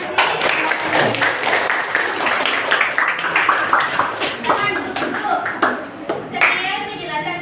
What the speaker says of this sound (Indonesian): mari kita tepuk tangan untuk kelompoknya sih